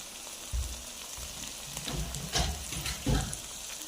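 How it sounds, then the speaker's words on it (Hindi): Chicken kadai masala fries in a pan, releasing oil, with a soft background sizzle and several low thumps and clatters as the mixture is stirred and moved around. "ये देखिए ऑयल आ चुका है, तो अभी हम 2 मिनट तक इसे भूनेंगे।"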